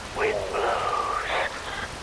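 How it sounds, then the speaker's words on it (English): Rain falls steadily in the Metal Gear Rising: Revengeance game world, a continuous soft hiss with a wavering, voice-like tonal sound gliding over it. "Rain falls."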